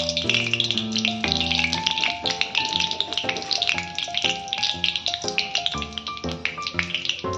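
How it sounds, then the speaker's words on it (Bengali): Dry red chillies and bay leaves crackling in hot oil, a light close sizzle with sharp pops, heard under a prominent melodic music track. "দুটো শুকনো লঙ্কা ফোড়ন দিচ্ছি প্রথমে, দুটো তেজপাতা"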